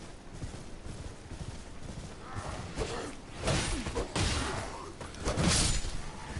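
Horse hooves in the Elden Ring video game pound at a gallop beneath game ambience as the spectral steed Torrent runs. Rhythmic thudding clip-clop is joined by occasional whooshing swells that grow louder toward the end.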